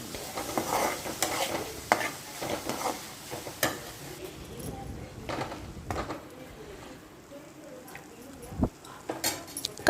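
A spoon stirs cabbage and boiled chana dal frying in a pan for curry, with repeated scraping strokes over a soft sizzle and occasional clinks against the pan.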